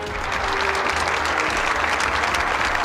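A seated audience claps loudly and steadily after officials sign a Chungcheong regional advanced-industry agreement at a government briefing; a thick, unbroken wash of applause runs for about three seconds.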